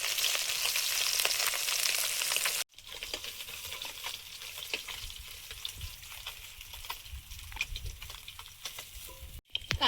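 Koi fish frying in oil, a loud continuous crackling sizzle up close, briefly cut off once and then resuming with dense popping spatter.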